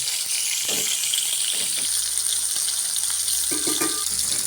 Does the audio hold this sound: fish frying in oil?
yes